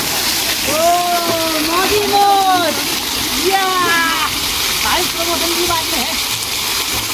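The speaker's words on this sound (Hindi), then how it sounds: "ठंडा ठंडा पानी एकदम गिरता है" Cold water pours steadily from a waterfall at TevaTiya water park in Saketpur, Agra, a constant close splashing rush heard under someone talking.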